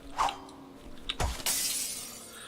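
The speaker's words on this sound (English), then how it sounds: "I have so much fun smashing all this glass." Glass smashes in the zombie video game Dead Island at a resort, a sharp crash followed by a bright shattering spray that trails off, after some brief clatter.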